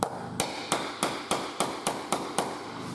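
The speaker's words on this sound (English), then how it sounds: "need to get a bash a chisel in here to knock that bit back" An old beater chisel struck with a hammer to knock back a piece of damaged laminate floor board indoors, giving eight sharp, evenly spaced close metallic blows with no talking.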